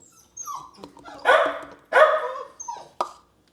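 A dog barks a few times in short, loud bursts with whimpering yips between them, close by in a quiet room.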